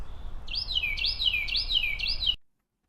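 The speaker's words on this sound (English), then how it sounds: "It was a nice big loud Carolina wren I captured." A loud, close Carolina wren sings four quick repeated phrases, each a rolling, whistled chirp, clear against a quiet background before the recording cuts off.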